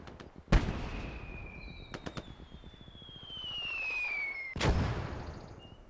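WWII video game combat, with two loud close gunshots or blasts several seconds apart, a few sharper cracks between them and whistling, descending tones in the gap.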